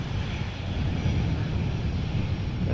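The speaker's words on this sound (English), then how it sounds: "an EasyJet Airbus has just touched down over here" An EasyJet Airbus airliner touches down at Amsterdam Schiphol in gusty crosswind, a steady, loud low roar of engines and rushing air that holds without a break.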